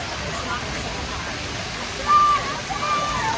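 A children's water play fountain at an evening market in Cary, North Carolina splashes in a steady, moderate rush, with crowd chatter and nearby talking over it.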